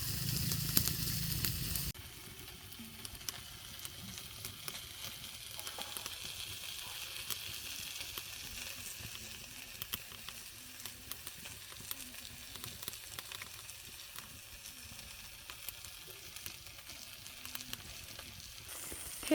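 Crushed garlic frying with a taro stolon bhaji makes a continuous low crackling sizzle, fairly faint and steady, following a brief louder hissing burst at the start, with no voices.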